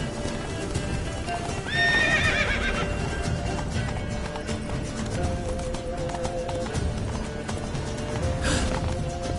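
The horse Roach in The Witcher 3 game gallops with a steady stream of hoofbeats and lets out a loud, shrill neigh partway through, with a fainter whinny near the end.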